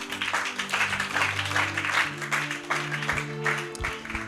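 A church congregation at a Bible teaching claps for Jesus, moderate uneven applause over sustained musical tones that fade and shift partway through.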